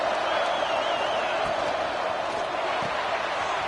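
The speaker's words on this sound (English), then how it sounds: "Listen to the crowd energy here in the early going." A stadium crowd roars steadily in the NCAA 26 college football video game, a dense continuous cheer under a commentator's voice.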